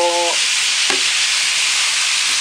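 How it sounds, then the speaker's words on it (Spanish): Meat frying in olive oil in a paella pan for paella valenciana, a steady close broadband sizzle that holds throughout, with a brief stir or clink partway through. "toda la carne esta, como hay que dejarla bien fritita"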